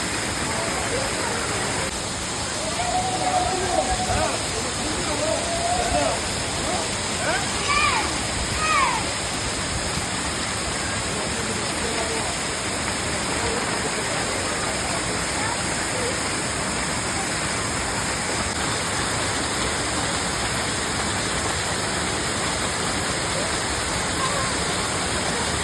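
A river flows near Manimuthar dam in Tamil Nadu, giving a steady, close rush of water that holds even throughout, with faint voices briefly audible early on.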